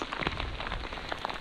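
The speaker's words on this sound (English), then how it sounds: "And it is raining." Steady rain pattering on surfaces during a mountain bike ride on the Tour Divide, a continuous moderate hiss of drops heard alone with no voices.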